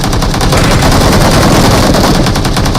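Loud, sustained bursts of automatic rifle fire in a video game firefight, rapid shots running together almost continuously across the whole stretch with no voices.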